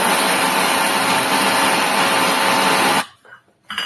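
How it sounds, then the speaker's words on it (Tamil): A mixer grinder whirs loudly and steadily while powdering cardamom pods with sugar, running for about three seconds before cutting off abruptly, leaving a short quiet tail. "ஒரு 1/4 கப் ஏலக்காய் எடுத்துகிட்டு ஒரு ஸ்பூன் சர்க்கரை சேர்த்து நம்ம அதை பவுட்ரு பண்ணி வச்சோம்னா நல்லா பவுட்ராகி வரும்"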